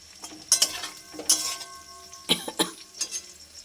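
Cauliflower frying and sizzling in a pan, with sharp clinks and scraping bursts of stirring scattered through the clip.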